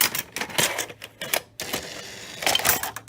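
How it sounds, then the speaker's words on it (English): A Toshiba M-2200 VCR with faulty video heads loads a tape: close, rapid mechanical clicking and clattering in short bursts separated by brief pauses. "let's see the mechanism in action with the tape"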